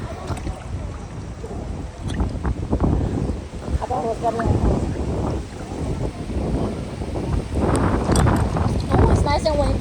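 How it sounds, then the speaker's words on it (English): Wind gusts outdoors on a summer day in Miami, a heavy low rumble buffeting the microphone throughout, with people talking over it. "Oh, it's nice and windy."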